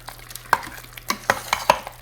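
Meatball pasta being stirred in the inner pot of an Instant Pot gives a few distinct wet scrapes and clinks, spaced unevenly over a quiet background, close and without speech.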